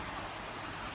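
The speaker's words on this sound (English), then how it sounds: "It's raining like crazy" Heavy rain falling around an outdoor patio, a dense, steady hiss of countless drops with no pauses, loud and close, with no voices.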